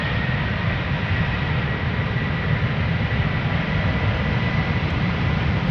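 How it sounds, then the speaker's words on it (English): Delta Airlines jet engines spool up at Amsterdam Schiphol Airport, a loud, steady broadband roar close by that holds its level without pause. "Spooling up already, Delta."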